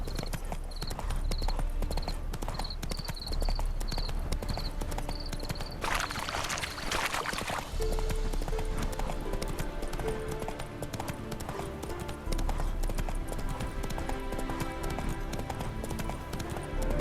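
Roach, a horse in The Witcher 3, trots with steady clip-clopping hooves, briefly interrupted by a burst of noise, while in-game music and a voice play beneath the hoofbeats.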